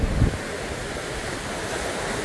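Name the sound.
big ocean waves and strong wind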